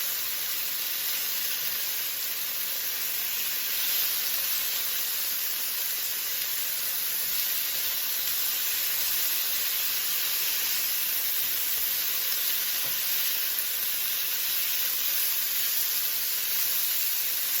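Steak fajita meat sizzling in a pan on the stove with the heat turned down, a steady hiss and crackle that carries on evenly for the whole stretch, with no talking over it.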